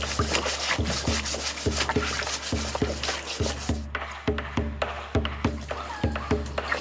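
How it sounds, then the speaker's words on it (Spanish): Cassava root being scrubbed and washed clean of soil in Yasuní, with close, rhythmic rubbing strokes repeating about every half second throughout. "Hay que lavar la yuca para que no esté con tierra. Se le limpia todo, bien bonito hay que limpiar."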